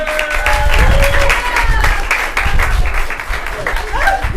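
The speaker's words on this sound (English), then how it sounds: "Give them a big round of applause, everyone." Loud applause from a comedy theater audience after an improvised show, sustained clapping with cheers and voices mixed in throughout.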